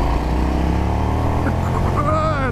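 KTM Super Duke R 1290 motorcycle engine pulling hard out of a bend, a loud steady drone close up with rising pitch as it accelerates, wind rush throughout.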